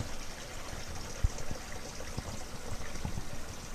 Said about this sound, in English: we got the water filling up here